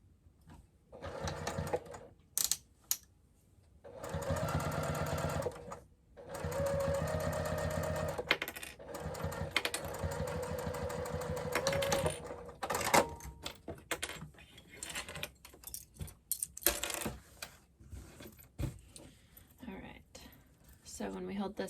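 A sewing machine stitching through a crossbody bag seam in several short bursts separated by stops and fabric handling, close up, with occasional speech.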